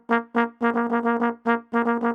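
A trombone sounds a quick rhythmic figure of about nine short notes on one pitch, some clipped and some held slightly longer, played close and strong with no voices.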